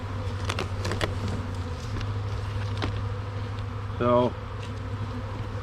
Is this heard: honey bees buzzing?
yes